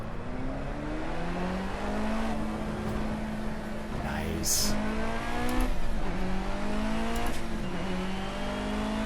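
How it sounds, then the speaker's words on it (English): BMW 1 Series M Coupe engine in the Project Cars racing game, revving in a steady, close drone whose pitch climbs and dips throughout, with a brief spoken word over it. "Ooh, I like the sound of this car. Listen to that thing."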